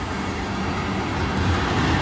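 A CN freight train rolls past in Port Huron, Michigan as a snowstorm approaches, giving a steady, continuous rumble and rail noise that stays loud and even throughout, with no talking.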